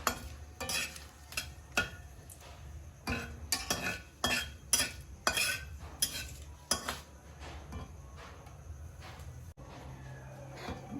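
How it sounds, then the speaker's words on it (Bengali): Bay leaves and green chillies frying in oil in a pan, heard as a low steady sizzle beneath repeated close clinks and scrapes of a spatula stirring against the metal vessel, with no voices. "তেজপাতা এবং লঙ্কাটা কিন্তু ভালো ভাজা হয়ে গেছে"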